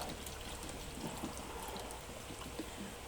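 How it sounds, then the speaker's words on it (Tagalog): Canned fruit cocktail pours from the tin into a bowl for a fruit salad, a steady wet, trickling stream running continuously at close range with no talk. "Buhos na natin ang fruit cocktail."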